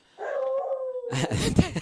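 Dogs close by howl in a long sustained wail, then break into loud overlapping barks and yips.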